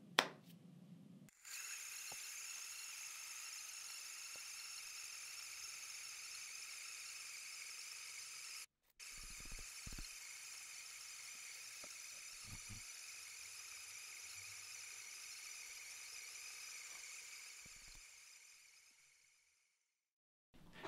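A Varia VS3 Gen 2 coffee grinder runs through a large batch of beans with a steady high-pitched whine, broken by one brief stop and a few clicks, then winding down and fading to silence near the end.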